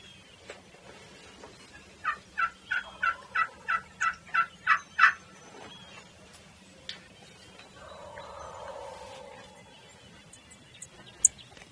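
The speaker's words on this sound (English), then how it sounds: "We got a gobbler right here." A wild turkey gobbler calls in a rapid run of about ten sharp, evenly spaced notes rising in loudness at moderate distance, followed later by a softer rolling gobble under quiet outdoor ambience.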